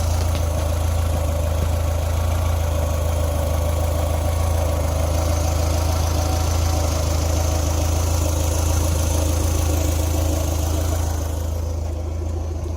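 Engine of a 1991 Toyota MR2 idling while warm, a loud, steady low hum with a constant drone that stays even throughout, with no speech.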